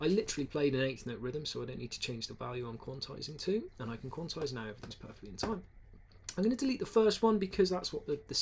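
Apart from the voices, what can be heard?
None of the usual background noises is heard.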